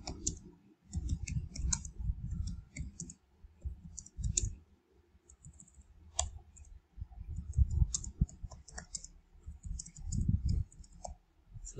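Quiz question typed on a computer keyboard: bursts of light, close clicking keystrokes in uneven runs separated by short pauses, quiet and alone without speech.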